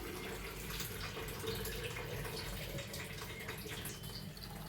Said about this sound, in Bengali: জল ভরে দিলাম।